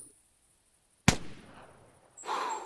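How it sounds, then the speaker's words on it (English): A single sharp .22 rifle shot cracks loud and close in theHunter Classic, fired at a turkey, then a fading tail and a later burst of rustling noise. "I'm gonna shoot this thing with the 22."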